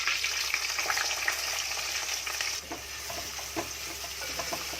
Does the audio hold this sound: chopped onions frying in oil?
yes